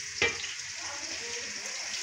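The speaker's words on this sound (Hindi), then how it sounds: "और अभी प्याज हो रही है ब्राउन, ज़्यादा ब्राउन नहीं है वैसे।" Onions fry in oil for a biryani masala with a steady, close sizzle and a brief stirring clatter near the start, continuous and moderately loud with no talking.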